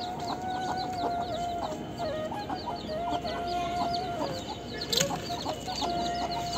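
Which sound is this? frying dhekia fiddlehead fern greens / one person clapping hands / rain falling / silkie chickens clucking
silkie chickens clucking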